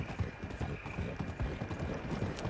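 Horse hooves clip-clop steadily as a horse is ridden on a hunting trip, a brisk even walking rhythm over the ground, close and clear with light ambient noise and no talking.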